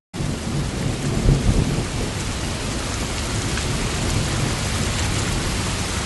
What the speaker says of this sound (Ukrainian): Пройшов весняний дощик.